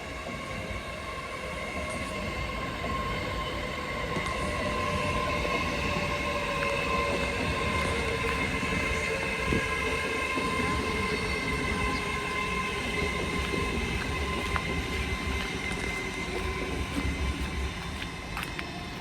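An Avanti West Coast train of 7 coaches to London Euston rolls steadily into platform 2 at Lichfield Trent Valley with a constant loud rumble and faint metallic squeals, no voices.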